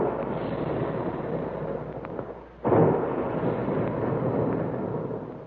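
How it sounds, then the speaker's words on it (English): Big guns fire as a radio drama sound effect, a heavy booming roar that swells, dips briefly, then bursts back in with a sharp thump and rolls on as a dense rumble, heard through a narrow, old broadcast tone. "And there go the big guns"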